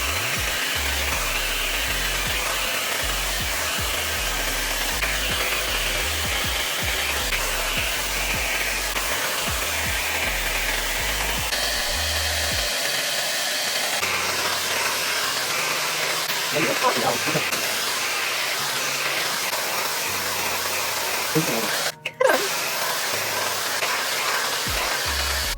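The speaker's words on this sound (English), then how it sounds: "I'll insert a clip really quick of blow drying with this versus blow drying with this." Shark Flex Style hair dryer blowing hair, a loud continuous airy whoosh that holds steady throughout, with brief handling bumps near the end.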